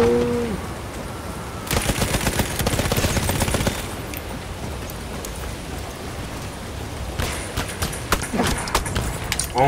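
Rapid gunfire bursts from a Selbstlader self-loading rifle in Battlefield 1 multiplayer, two dense volleys of quick shots mixed with other battlefield noise, loud and near, with a horse nearby.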